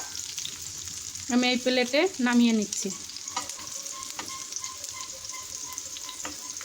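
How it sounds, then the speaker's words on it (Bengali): Bitter gourd fries in a pan with a low, steady sizzle and some stirring clicks. Someone speaks briefly near the start, and the frying carries on quietly after she stops. "এই দেখুন উচ্ছেগুলো আমার গলে গেছে, প্রায় ভাজাও হয়ে গেছে।"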